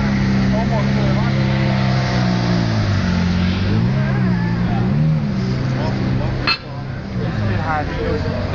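A car engine idles and runs steadily with a low harmonic hum that shifts in pitch, close by, while people talk over it throughout.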